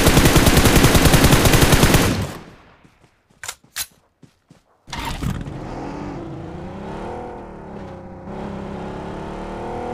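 Mobile shooter game gunfire in a Jujutsu Kaisen mode: a loud, dense burst of rapid automatic fire for about two seconds, then a handful of sharp isolated single shots, followed by a steady vehicle engine drone with no talking.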